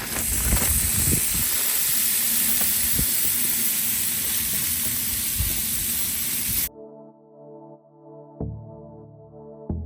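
Ribeye steak sizzling on a griddle over peppers and onions at Hueston Woods State Park, a steady, close hiss with small pops that runs for several seconds and then cuts off abruptly into quieter tonal sounds.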